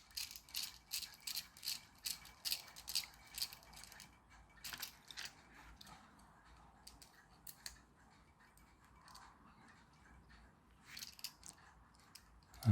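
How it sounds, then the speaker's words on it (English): Plastic parts of a Character Options Wild Pets Eyegore toy spider are twisted backwards until the screw threads catch, making a run of small rhythmic clicks and ratcheting ticks, then a quieter pause and a few more clicks, close up and without speech. "turn it backwards a few times till you feel it click while the threads line up together again"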